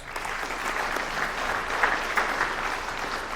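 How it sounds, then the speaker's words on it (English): A crowd at a school alumni and athletic hall of fame induction claps in a steady, moderately loud burst of many hands, with a few sharper claps standing out. "Round of applause."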